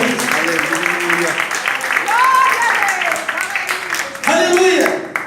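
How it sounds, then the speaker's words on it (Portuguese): Congregation claps in an Assembleia de Deus church service, steady applause under shouted and sung voices, fairly loud and continuous. "Pode aplaudir, em nome de Jesus."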